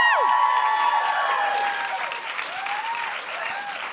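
Sustained audience applause for Sara Blakely at a live podcast taping, loud and dense at the start and easing slightly, with a few voices rising over the clapping.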